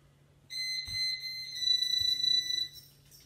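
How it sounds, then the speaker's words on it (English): A driveway alarm sounds a steady high-pitched electronic tone for about two seconds, with a few soft thuds in the background. "the driveway alarm's going off constantly"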